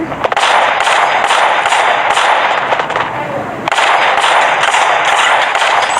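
Dense, continuous gunfire bursts in a shooting video game, loud and nearly unbroken across the whole stretch with brief dips, heard without clear speech.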